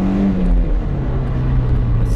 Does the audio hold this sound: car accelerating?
yes